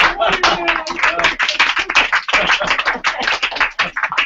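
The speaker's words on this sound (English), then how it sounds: "Now we clap." Small audience at an association's annual meeting claps after a prize winner is announced, with distinct close individual handclaps in a quick, uneven patter rather than a dense roar.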